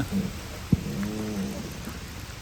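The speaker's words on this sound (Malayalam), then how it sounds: "ബസ് ഇറങ്ങി മഴ ഉണ്ട് മഴ ഉണ്ട്" Rain falls at a bus stop near the Vogel cable car station by Lake Bohinj, Slovenia, as a steady, even hiss with one brief sharp knock early on.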